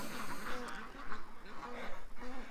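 Ducks quacking in short bursts at a duck rescue and feeding spot, a busy overlapping chatter close by with a person speaking among them.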